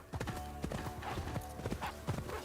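Hooves of Shimaki, a horse ridden in the PS5 video game Ghost of Yotei, clip-clop in a steady, close, even rhythm.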